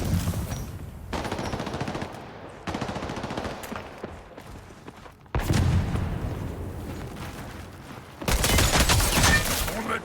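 Rapid bursts of automatic gunfire in a 5v5 match of the Highguard shooter video game, loud clustered volleys separated by short pauses, with a heavy final barrage.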